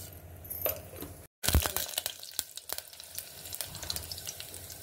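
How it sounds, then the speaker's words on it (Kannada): Mustard seeds crackle and pop densely in hot oil for a snake gourd curry, a busy, close sizzle with sharp spits that starts abruptly after a brief silence and keeps going. "ಈಗ ಸಾಸಿವೆ ಹಾಕ್ತಾ ಇದ್ದಾರೆ"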